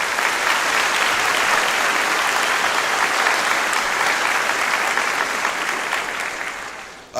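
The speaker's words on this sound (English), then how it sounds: "let's give those ladies a round of applause" Audience applause at a senior awards ceremony, a loud, sustained crowd of hands clapping steadily for several seconds before tapering off at the end.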